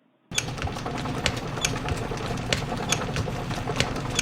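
A lathe screw-cutting a gear hobbing cutter starts abruptly and then runs with a steady, busy mechanical chatter and regular ticking clicks, close and moderately loud.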